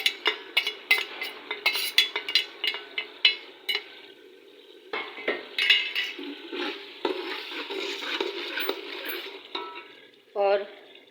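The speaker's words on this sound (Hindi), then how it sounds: "और फिर इसको भून लेते हैं।" Salt and red chili spices fry in a pan while a spoon stirs and scrapes repeatedly, giving rapid close clinks and scrapes over a soft sizzle, ending with a brief metallic clatter.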